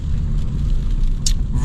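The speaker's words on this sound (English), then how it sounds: "First impressions of the exhaust" A Fiat Punto Evo's exhaust rumbles low and steady as the car drives uphill, heard from inside the cabin, with a brief hiss near the end.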